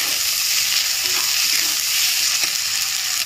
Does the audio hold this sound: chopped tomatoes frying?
yes